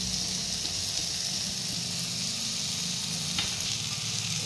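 Paneer cubes tossed into a pan of vegetables sizzle steadily, with stirring scrapes running under the frying hiss throughout and no voices.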